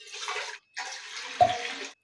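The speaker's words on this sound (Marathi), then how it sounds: "3 वाट्या असं पाणी घेऊया" Water pours into a cooking pot on a lit gas stove, two bursts of steady splashing separated by a short pause, with a small clink near the end of the second pour; three cups go in to make chakli dough.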